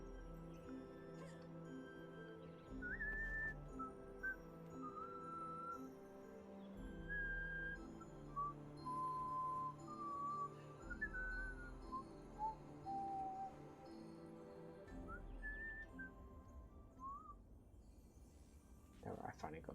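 A person whistles a quiet tune in short, separated notes, with talking over a low, rhythmic background throughout.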